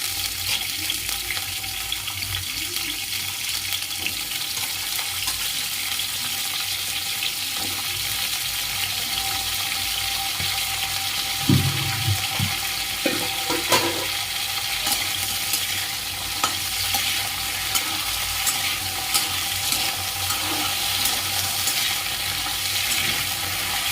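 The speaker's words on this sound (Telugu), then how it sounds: "ఇప్పుడు బాగా కడిగి పెట్టుకున్న ములంకాడలు అయితే వేసుకొని కాసేపు ఒక 5 మినిట్స్ 10 మినిట్స్ అయితే బాగా ఫ్రై చేసుకోవాలి" Fresh-washed drumsticks frying in oil in a kadai, with a steady close sizzle and occasional scraping stirs and clinks of the ladle throughout, no voices.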